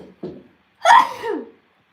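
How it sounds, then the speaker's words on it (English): A single sneeze from a person live-streaming, a short intake followed by a sharp burst and a trailing exhale, close and alone with no talk around it. "I gotta sneeze."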